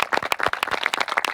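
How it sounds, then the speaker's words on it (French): Adventurers in a team outdoor challenge event clap for themselves after their first trial, a brief burst of scattered, uneven hand claps from a small group close by. "Donc bravo à tout le monde, vous pouvez vous applaudir."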